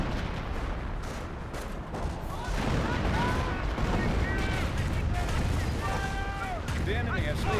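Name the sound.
artillery barrage in video game Company of Heroes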